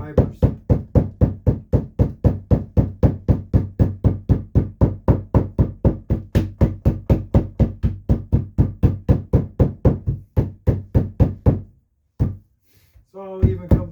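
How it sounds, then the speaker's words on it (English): Soaked cedar is pounded to loosen its fibers, giving a long, steady run of evenly spaced heavy knocks, dozens in a row, before a brief pause and a few final blows. "Makes it easier to pound and loosen the fibers."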